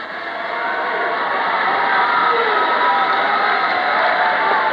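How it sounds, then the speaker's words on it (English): Amery fans cheer at a high school basketball game, a steady, loud roar of crowd noise filling the gym without a break. "you hear the Amery crowd right down in front of us cheering on"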